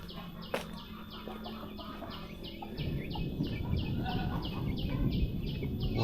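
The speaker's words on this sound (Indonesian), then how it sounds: "ini banyak ayam yang berkeliaran, jadi tandanya kita berada di pedesaan ya" Chickens wander through a remote Javanese farming village of old traditional houses, giving sporadic clucks over a steady outdoor ambience of chirping birds or insects. Low rumbling noise grows louder partway through.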